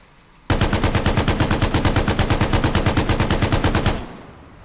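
Bren light machine gun firing in a video game, one sustained burst of steady rapid shots lasting about three and a half seconds, loud and close, then a short tail.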